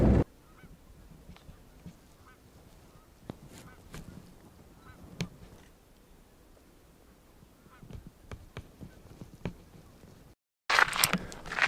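Scattered geese honking at a distance over a quiet outdoor duck-hunting field, with occasional louder calls, then a brief silence and a burst of louder noise at the end.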